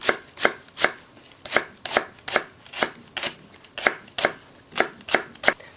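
A knife chops daepa (Korean green onion) on a cutting board in a quick, steady run of crisp close taps, about two per second, with no talk.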